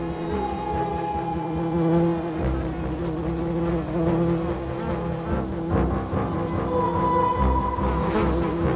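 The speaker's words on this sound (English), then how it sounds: "After the bees have gone, the flies move in. They hover over the bee chambers, take aim, and fire." Female bee flies hover over ground-nest bee chambers, a steady insect buzz with a drone that shifts and rises toward the end, continuous throughout with no voices.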